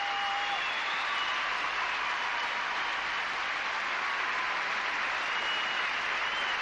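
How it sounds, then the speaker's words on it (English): Sustained, even applause fills an indoor arena at the British ice skating championships, a dense wash of clapping from a large audience that holds steady throughout with no break. "great applause from around the building"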